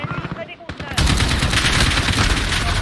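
Heavy automatic gunfire in a video game starts after a short lull, then turns into a loud, sustained stream of rapid shots with a voice speaking over the first part.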